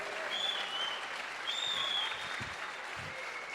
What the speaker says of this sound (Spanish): Alguien déle una ofrenda de palmas a Cristo Jesús.